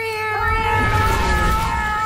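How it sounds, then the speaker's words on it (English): Cartoon cat meowing in the animated series Young Justice, a near, drawn-out tonal cry lasting about two seconds with a steady low rumble beneath. "She's a little kitty, you big bully."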